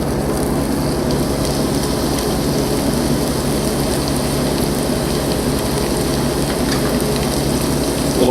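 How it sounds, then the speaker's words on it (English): Onions sizzle loudly and evenly in hot extra virgin olive oil in a pan, a dense unbroken crackling hiss close to the microphone. "Going to be adding our onions."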